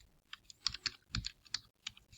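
Fingers typing an SQL command on a computer keyboard, a brisk, uneven patter of close, fairly soft key clicks with no voice.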